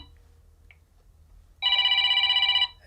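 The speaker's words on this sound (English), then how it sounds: "somebody just called us, and they're calling again" A basic non-smartphone mobile phone rings with an incoming call, a loud trilling burst lasting about a second after a quiet stretch.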